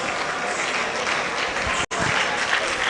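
Applause from a teachers' leadership conference audience for an honoree, a continuous wash of many hands clapping, broken by a brief dropout partway through.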